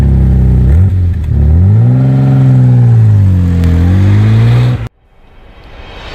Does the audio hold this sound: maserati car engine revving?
yes